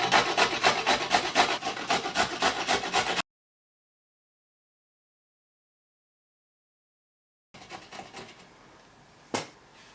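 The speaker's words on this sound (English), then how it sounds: "take the ginger and grate it on the biggest holes on the grater" Fresh ginger rasped on the largest holes of a kitchen grater, a steady run of rough rhythmic scraping strokes that stops, then a few quieter scrapes with one sharp knock near the end.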